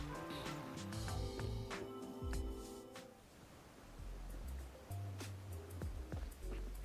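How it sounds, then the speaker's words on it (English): A wide, placid, heavily polluted river flowing past a riverbank in Kanai Ward within a video game, a soft washing surf-like murmur under music at first, then continuing alone with occasional splashes. "A riverbank of the large river running through Kanai Ward."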